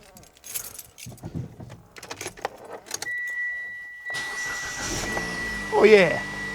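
A Mitsubishi Outlander engine starts after a starter replacement: keys jangle and people talk nearby, a brief whine, then the engine catches and settles into a steady, fairly quiet idle close by.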